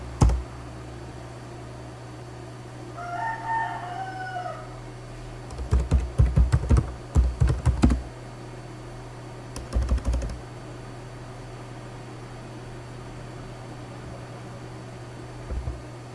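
Quick typing on a computer keyboard while writing a pull request description: a few short, close bursts of key clicks over a steady hum, with long quiet stretches between them.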